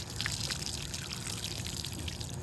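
Thin trickle of water from a newly connected house water supply, a faint steady splashing and dribbling hiss that runs continuously at low level throughout.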